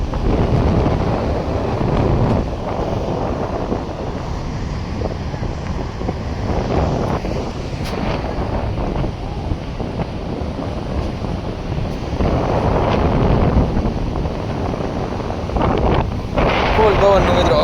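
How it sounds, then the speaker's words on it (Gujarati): Strong wind buffets the microphone at Madhavpur beach as sea waves crash and surge, a loud, continuous roar with rising swells and some voices mixed in. "ફૂલ પવનનો મિત્રો અવાજ આવે છે અને દરિયો શું વાડા મારે"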